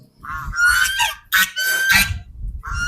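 Loud, harsh honking calls from ducks kept on a goat farm, several overlapping squawks close by in quick succession, with brief gaps between bursts.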